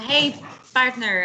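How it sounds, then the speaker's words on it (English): Dogs in a house bark and whimper with high, harmonic yelps. Two bursts come close together, partly under a voice. "You're hearing my dang dogs."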